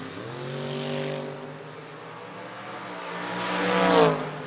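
A 1965 Ford Mustang drag racer runs on the strip, its engine a sustained droning roar that rises in pitch as it accelerates and swells louder toward the end, heard from a moderate distance.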